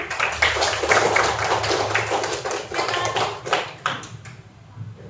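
A class of students clap their hands together in an Indonesian classroom, a dense, steady patter of many close hands lasting several seconds before thinning out near the end.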